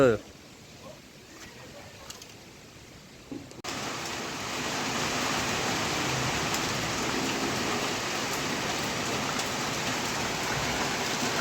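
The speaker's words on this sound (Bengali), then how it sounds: "এই যে বৃষ্টিও পড়ছে" Heavy rain pours during a fierce afternoon storm. It starts as a faint patter, then a sudden switch brings a loud, dense, steady hiss of rain that continues to the end.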